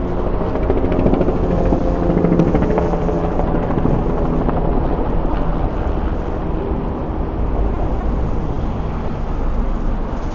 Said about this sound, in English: I feel like this helicopter was so close.